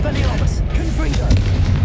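Fiery explosion spells from Confringo casts in Hogwarts Legacy gameplay, dense booming blasts rolling one after another under layered game effects and crackling magic with no break in the loud roar.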